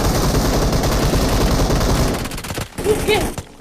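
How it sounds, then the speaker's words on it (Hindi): Gunfire in the mobile battle royale game BGMI: loud, dense rapid bursts from several weapons pour out nonstop for over two seconds, then thin to a few scattered shots. "अभी ये बगल पे भी गोलियां चलने लग गई"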